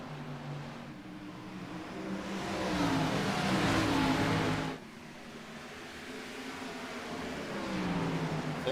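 A race car spins its tires under a restart at Richmond during a Cup Series race, a loud engine roar that swells and revs, drops suddenly, then builds again as other cars rumble nearby, with no talking.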